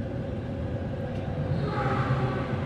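Progo passenger train pulling away from Haur Gelis station in Indonesia, a low continuous rumble of wheels and engine close by, steady and building slightly with a faint higher whine toward the end.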